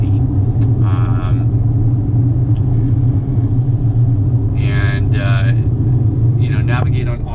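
Tesla Model X on Interstate 80 near a major interchange, heard from inside as a steady low road rumble and tire drone throughout, with a few brief voices over it.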